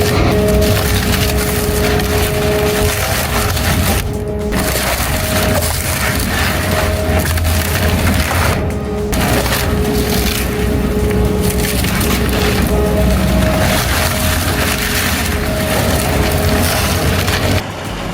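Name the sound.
twin-shaft wood shredder crushing and splintering wood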